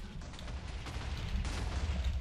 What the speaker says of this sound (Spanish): Veo explosiones